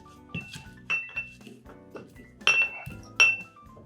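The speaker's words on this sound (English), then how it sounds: "We're going to add the mint, we're going to muddle it" Glass and utensil clinks ring out as about ten sprigs of mint are lightly muddled in a glass for a mojito mocktail, a handful of sharp taps spaced unevenly over a few seconds, close and clear with no talking.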